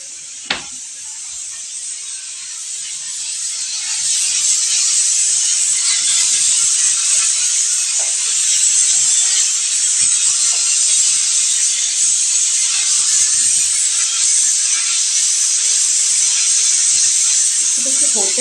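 Pressure cooker on the stove cooking unsoaked chana dal, giving off a loud, steady hiss of escaping steam that builds and holds for many seconds near the mic, with faint kitchen clatter underneath.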